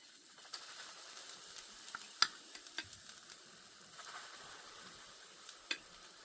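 Filled fritter batter fries in oil in a pan with a faint, steady crackling sizzle, dotted with scattered small ticks and pops.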